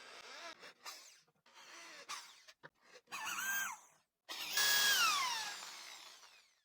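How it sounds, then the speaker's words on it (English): Power drill countersinking holes in a wooden piece, with several short whining bursts that rise and fall, separated by gaps and ending in a longer, louder cut. "countersinking will be done on the side with the rounded edge"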